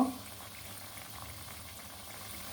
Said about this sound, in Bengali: সবগুলো একটু লালচে লালচে করে ভেজে নেব